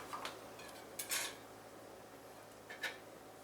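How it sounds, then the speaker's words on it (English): A heavy-gauge metal foldable fork and spoon clink faintly against the lid of a 22oz insulated food thermos, giving a few light, brief metallic taps and rattles close by. "This portion here is a nesting area for a foldable fork and spoon, which are included, so you can choose which one and drop it in there."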